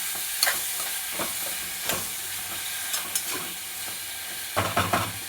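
Chopped onion and tomato fry in oil in a kadhai, a continuous close sizzle broken by several sharp stirring scrapes and clatters, the busiest cluster coming near the end.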